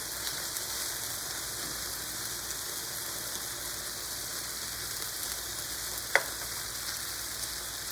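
Bacon-wrapped cod frying in a hot pan over high heat, a steady bright sizzle that holds evenly throughout, close up, with one brief sharp click near the end and no talking.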